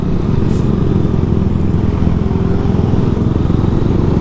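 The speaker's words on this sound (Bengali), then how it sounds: "এখানে যতগুলা বাইক আছে সবগুলোর মধ্যে এটা একদম স্পেশাল আলাদা" A motorcycle engine idles loudly and close by, a steady low rumble throughout with no voices.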